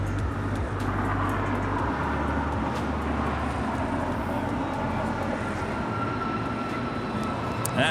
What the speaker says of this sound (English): That is EVA Air Flight 12 coming in from Taipei and a 777-300ER